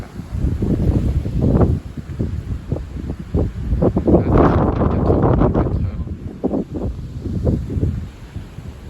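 Powerful gusts from storm Louis, around 80 km/h, roar loudly across the microphone, surging in repeated bursts with a fierce peak midway and no voices.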